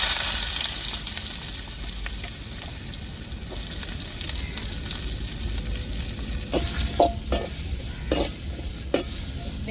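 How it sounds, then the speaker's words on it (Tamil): Onions and mustard seeds sautéing in hot oil for a bitter gourd stir-fry, a continuous bright sizzle with a few spatula scrapes and taps near the end, no voices. "இப்போ வெங்காயம் சேர்த்துக்கிடுவோம்"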